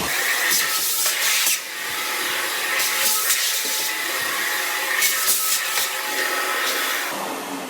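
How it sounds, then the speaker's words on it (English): A vacuum cleaner running steadily during kitchen appliance cleaning, a loud constant whining hiss with brief dips and scraping surges as the nozzle moves, and no one speaking. "When we get to this bottom part, we need to vacuum in the bag, especially if you can see a hole there."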